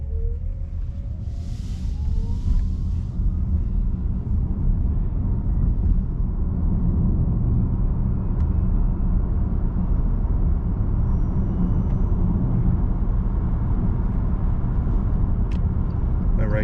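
A 2012 Fisker Karma electric car drives steadily along a road at about 50 mph, with a constant low rumble of tires and motor and a faint high whine, no talking.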